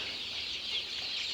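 Peruvedai lineage chicks chirp in a continuous, dense cluster of high peeping, fairly faint and steady throughout, with no talking.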